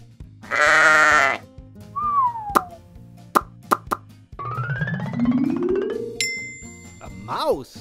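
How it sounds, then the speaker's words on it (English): A sheep bleats in a wavering, drawn-out call amid playful plops, dings and bouncy cartoon effects in a children's animal-sound sequence. "A sheep."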